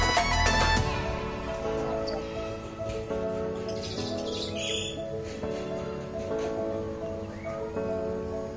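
Birds chirp and call from cages at a zoo, with repeated bright tweets and trills over a continuous layer of ambient noise and tonal hum. The sound is moderately close and the background stays busy throughout.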